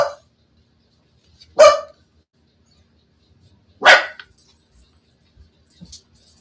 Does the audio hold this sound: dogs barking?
yes